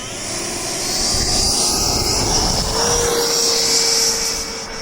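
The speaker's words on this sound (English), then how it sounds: "I'm taking off now." A Stinger 90 model airplane's glow engine whines steadily at high pitch through a busy outdoor soundscape, rising as it takes off and holding loud and continuous throughout.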